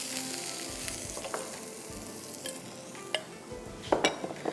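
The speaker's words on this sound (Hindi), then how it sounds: "ग्रिल्ड अनियंस हो गए ये, देखें इसी के तेल में मैंने कर दिया।" Grilled onions frying in oil for beef burgers, a soft continuous sizzle broken by occasional scrapes and clinks of stirring, fairly quiet and close, with no voices.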